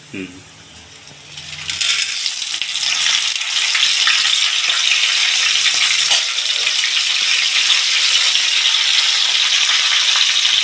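Chana dal, cumin, dried chilies and curry leaves hit hot oil and crackle, and the sizzle jumps to a loud, steady roar after a short quieter start, with rattling as the spices are stirred around.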